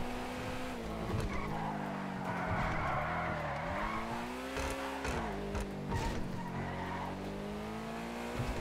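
A car in a street-racing video game revs and slides with squealing tires. The engine drone rises and falls in smooth sweeps and skids break in briefly, all at a moderate level with no voices.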